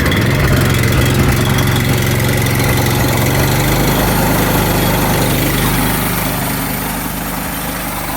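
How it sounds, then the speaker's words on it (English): The small gasoline engine on an EZ Boardwalk Jr sawmill runs at a loud, steady chug close by, then its pitch and loudness ease down as it settles into an idle. "let's choke the engine and start it"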